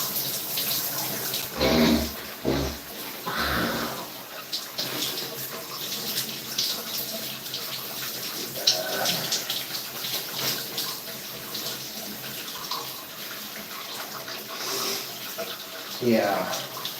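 Shower water runs in a steady, broad hiss throughout, with a few louder bumps and splashes and muffled sounds in between.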